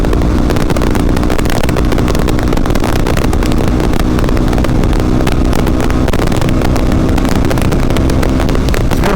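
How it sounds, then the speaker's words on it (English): A 125cc motorbike with a vent muffler riding at cruising speed, recorded from a helmet camera, a steady droning engine buried under heavy, continuous wind buffeting. "Considering this bike's only a 125, you know, the acceleration on it isn't bad."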